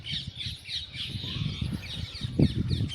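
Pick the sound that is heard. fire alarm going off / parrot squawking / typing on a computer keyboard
parrot squawking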